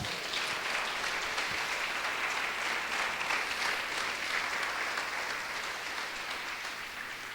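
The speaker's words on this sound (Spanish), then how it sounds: "Dale un fuerte aplauso al Señor" A church congregation claps together in sustained applause during a worship service, a thick, continuous wash of hands that holds steady for several seconds and then eases off slightly, with no voices over it.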